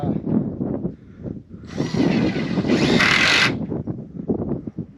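A power drill drives screws into wood while building a goat shelter, its whirring burst rising for about two seconds amid outdoor background noise and murmured talk.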